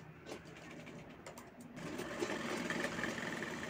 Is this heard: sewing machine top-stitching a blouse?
yes